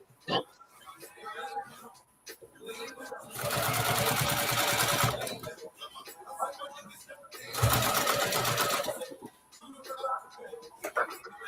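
A sewing machine stitches a bucket bag in two sustained runs, each lasting about one to two seconds, with quieter handling noises and shuffling between and around them.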